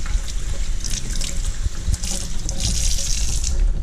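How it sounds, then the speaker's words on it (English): A kitchen tap runs steadily while hands are washed under it, water splashing and trickling close by with no break. "Wash my hands off."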